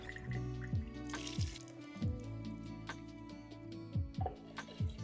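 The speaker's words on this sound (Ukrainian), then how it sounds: "добре промити її водою та злити зайву рідину" Water splashes and trickles through a sieve as lentils are rinsed and drained, with wet, squelchy rinsing sounds and repeated drips, close by, with no voices.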